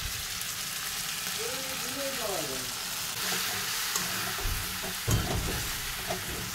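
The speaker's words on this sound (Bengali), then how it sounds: "এখন দেবো লঙ্কা, এখন গোলানো মশলাটা দিয়ে দেবো" Spice paste and chili frying in a pan for a dried fish dish, a dense continuous sizzle with short harmonic voice sounds over it and a few heavier scraping bumps toward the end.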